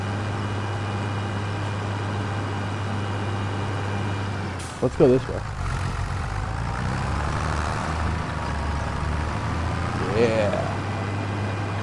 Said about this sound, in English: Chilling in our tractor.